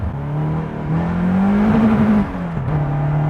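A Caterham CSR sports car engine drones and climbs in pitch as it accelerates on a track, easing off briefly, then pulling again, loud and close.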